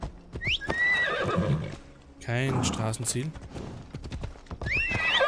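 Horse in Assassin's Creed Odyssey galloping with clip-clopping hooves and loud whinnies at the start and end, a voice talking over it midway.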